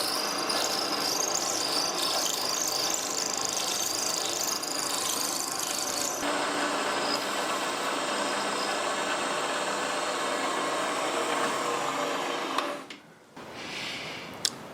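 A machine tool takes deep roughing passes on a part for a Webster model engine, producing a steady, loud whining and grinding cut that changes pitch partway through before cutting out near the end, followed by a few clicks.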